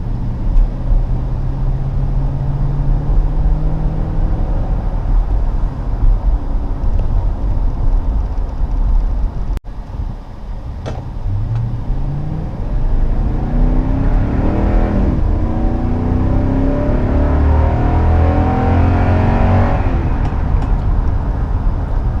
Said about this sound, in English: this engine does move this truck pretty quick